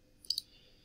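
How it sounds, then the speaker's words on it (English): A computer mouse clicks once, a small, quiet, close tick in an otherwise near-silent moment. "I want to select it by clicking"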